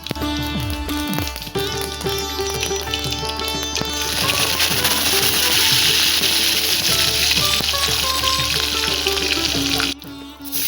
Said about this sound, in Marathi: आता या तापलेल्या तेलात आपण अर्ध चमचा मोहरी अर्ध चमचा जिरा आणि कडीपत्ता टाकून घेऊया